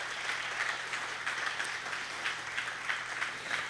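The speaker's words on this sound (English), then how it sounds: "give Gary a round of applause" Audience applause for Gary at a Brady Bulldog sports awards event, a sustained even patter of many people clapping, steady and moderately loud for the whole stretch.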